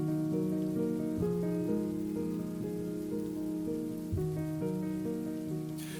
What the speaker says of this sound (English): As the rain intensified, staying still was no longer an option